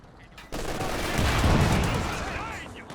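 Sustained machine gun fire in a Company of Heroes 2 1v1 match, a dense rattling burst that starts abruptly and rolls on under battlefield noise and explosions.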